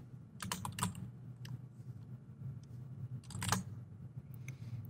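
Quick bursts of clicking keys on a computer keyboard as a layer name is typed, faint and close, in two short clusters over quiet room tone.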